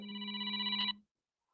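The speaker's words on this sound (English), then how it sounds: "My phone rings." A telephone rings once with a steady electronic trill, close and clear, then stops abruptly, leaving silence with no talk.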